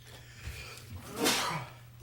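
A single sneeze bursts out near the middle of a quiet indoor talk-show recording, loud and short against a low background hum.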